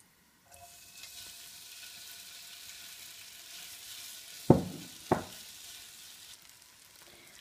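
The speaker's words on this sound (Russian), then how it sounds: "Такой картофель готовится именно на сковороде." Hash brown potatoes with peppers fry in oil in a skillet, giving a soft, continuous sizzle broken by two sharp, loud clatters close together, with no talk.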